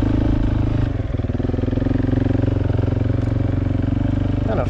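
A motorcycle rides a slightly technical wooded trail on a camping trip, its engine droning steadily and close with a throbbing pulse throughout, while a rider talks over it.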